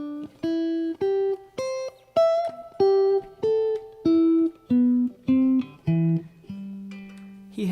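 Guitar notes picked one at a time, about a dozen clean, distinct tones in a steady rhythm, each sustaining briefly before the next, ending on a longer held note; close, soft, no talking.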